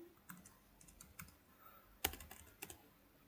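Faint, sparse key clicks from a computer keyboard while data is being entered, a few soft taps followed by one sharper, louder keystroke and a couple more clicks.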